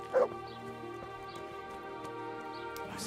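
A dog barks once, briefly, in the medieval video game Kingdom Come: Deliverance, set against a steady droning game soundscape; a faint second yelp comes near the end.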